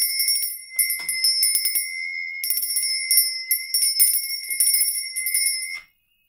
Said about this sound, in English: I'm going to be ringing my bell